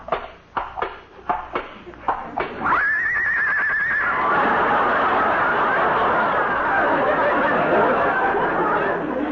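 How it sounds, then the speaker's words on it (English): A horse whinnies loudly in a vintage comedy radio show, following a run of sharp rhythmic knocks, with a long shrill neigh and then a broad wash of studio audience laughter. "Lillian is a horse."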